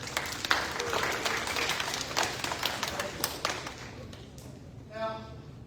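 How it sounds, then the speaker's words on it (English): Zoo visitors at a mammoth hunters presentation give a scattered round of clapping with distinct individual claps, moderately close, tapering off before a presenter starts talking near the end. "Can we get a round of applause for our bear fighters?"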